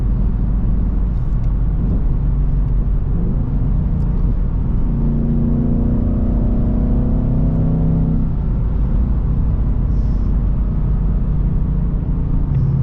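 A 2024 Ford Mustang GT's Gen 4 Coyote V8 drones loudly and steadily from inside the cabin, its pitch climbing and dropping as it accelerates through the 10-speed transmission's gears.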